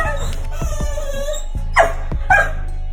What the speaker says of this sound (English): Words can't express how this dog feels when his owner finally comes home from a trip, but excited squeals can.